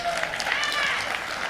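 Audience applause at an awards ceremony, a brief steady wash of clapping from a crowd, moderately loud and even, with no clear speech over it.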